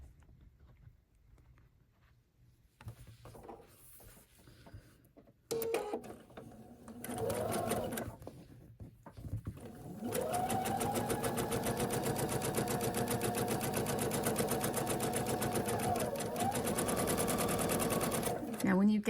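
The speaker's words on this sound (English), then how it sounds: "So the first step here, sewing these edges together." A sewing machine stitches the edges of quilt fabric together, starting in short stop-start bursts and then running in a long, fast, even whir close by, with a voice talking over the early part.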